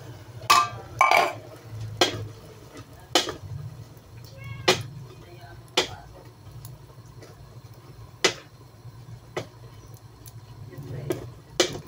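A metal pot lid set onto a pot of simmering kangkong adobo, a Filipino water-spinach dish, landing as sharp clinks and knocks over a steady low bubbling and kitchen hum, with a few more light taps after it.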